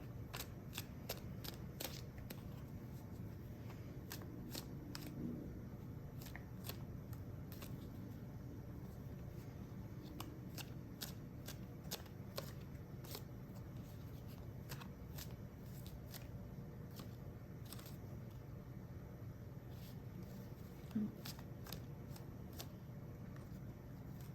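A tarot deck is shuffled and cards are drawn for a reading, giving repeated soft riffling flicks and card snaps at an irregular pace, quiet and close over a faint low hum.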